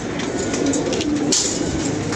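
Pigeons at a rooftop loft call amid a dense, steady wash of background noise, the low cooing close but partly masked, with a brief brighter burst of sound midway.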